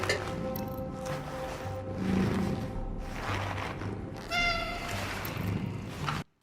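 Cat meowing in a survival horror video game, a few drawn-out tonal meows rising over a dense, murky game ambience with low rumbling and watery texture, moderately loud and without talk.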